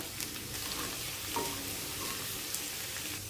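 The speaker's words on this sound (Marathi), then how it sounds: "आता जिरं मोहरी छान भाजलं तसं 7-8 लसणीच्या पाकळ्या, थोडासा आल्याचा तुकडा घालून घेतला" Cumin, mustard seeds, garlic cloves and a piece of ginger sizzle in hot oil for sambar, a steady close frying hiss with a couple of faint stirring scrapes.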